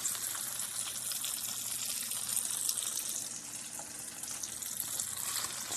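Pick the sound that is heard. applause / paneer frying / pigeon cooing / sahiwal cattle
paneer frying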